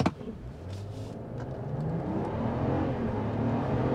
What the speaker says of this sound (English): We'll just floor it from a stop.